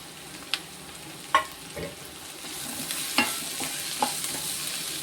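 Ginger and green chilli sautéing in a small amount of oil in a pan for chicken samosa filling: a steady close sizzle broken by scattered scrapes and clinks of stirring.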